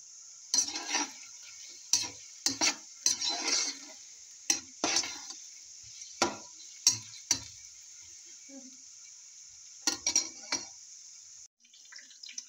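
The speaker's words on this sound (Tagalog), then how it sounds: "so I saute now garlic" Garlic sautéing in a frying pan under a steady sizzle, with repeated sharp scrapes and stirring strokes of a utensil against the pan, close up, trailing into quieter sizzling.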